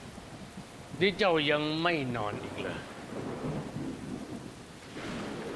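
Steady rain with a low thunder rumble beneath a Thai period drama scene, as the rainy season arrives; someone speaks over it and the rain wash continues afterward.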